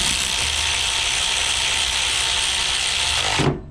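A budget SEESII cordless ratchet runs in one continuous, loud mechanical whir for several seconds and then cuts off abruptly at the end, with no talking.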